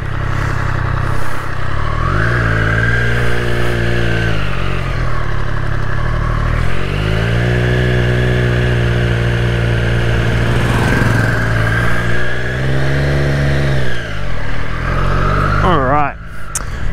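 A 2020 Triumph Street Triple RS triple-cylinder engine hums and rises through the gears as the bike rides, pitch sweeping up and easing off repeatedly under steady wind noise, with a rider occasionally talking over it.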